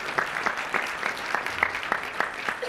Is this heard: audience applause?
yes